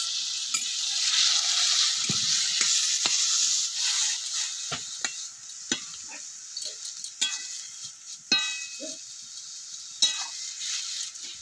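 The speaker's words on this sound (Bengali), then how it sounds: "লাউটা একটু নেড়ে নিতে হবে" Diced bottle gourd sizzles and fries in a pan while being stirred, a steady hiss broken by scraping and clinking of the spatula against the metal, close and continuous.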